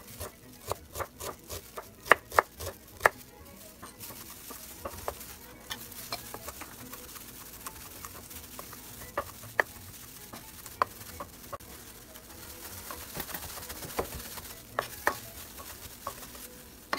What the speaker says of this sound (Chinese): 姜蒜去皮，然后把它们切碎。